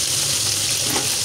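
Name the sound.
fish pieces frying in a pan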